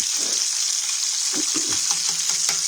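Food frying in lard in a skillet, a steady close sizzle running throughout with a few brief stirring scrapes in the second half and no talking.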